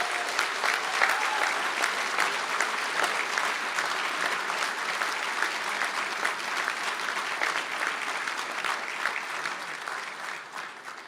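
An audience applauds at a graduates' conferring ceremony in Galway City, dense sustained clapping filling a large hall, steady throughout before tapering slightly at the end.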